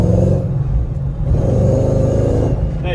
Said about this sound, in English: Hey, you hear the supercharger a little bit?